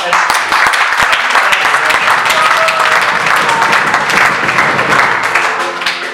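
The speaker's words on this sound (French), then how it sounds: "j'aimerais qu'on acclame pour les femmes" A church congregation applauds loudly and continuously, dense clapping from many hands filling the space with crowd noise and voices mixed in.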